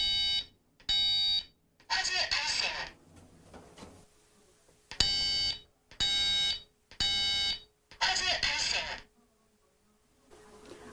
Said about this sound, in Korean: 화재가 나게 되면 연기가 이 본체에 있는 흡입망으로 들어와서 알림을 알려주게 되고요